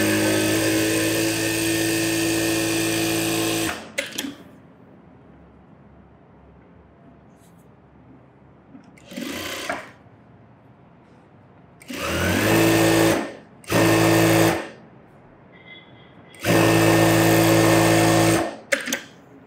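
Tailoring sewing machine running in loud, steady whirring bursts: one long run, then several separate short runs with quiet pauses between.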